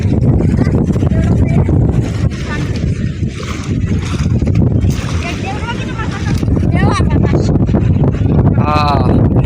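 Loud, buffeting wind roars across the microphone throughout, gusting and rumbling, with faint voices partly buried beneath it.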